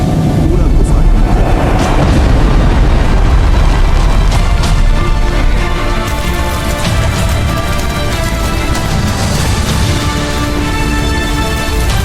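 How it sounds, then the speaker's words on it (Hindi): A fireball strikes a cave in an animated scene and sets off a loud, sustained explosive rumble with deep booming and crackling debris that roars on for several seconds. "तभी संभा की गुफा पे अग्नि गोला गिर जाता है।"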